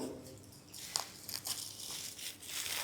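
A wrapped surprise package is torn open with faint, close crinkling and crunching bursts of plastic wrapper, irregular and quiet, with no speech over it.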